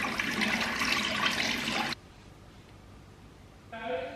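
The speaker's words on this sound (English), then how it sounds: "Now I'm going to remove with warm water." Warm water splashes and runs as a face is rinsed, a loud rushing wash that stops abruptly midway, leaving quiet room tone before a voice begins speaking near the end.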